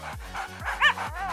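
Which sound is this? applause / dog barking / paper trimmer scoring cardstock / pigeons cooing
dog barking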